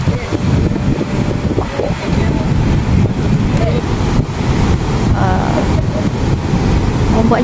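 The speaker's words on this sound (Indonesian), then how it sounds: "Maaf ya kalau misalkan suaranya berisik, ada angin gitu ya kan." Wind buffets a microphone at Kuta Beach with constant loud rumbling gusts, mixed with surf and a voice talking under the noise.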